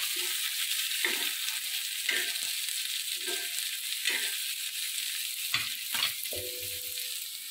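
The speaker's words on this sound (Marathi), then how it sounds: "तर हे सगळं भाजून घेणार आहे तेलामध्ये" Masala spices roasting in oil in a pan for a mutton recipe, a steady soft sizzle under intermittent scraping and stirring knocks, heard close with no talk.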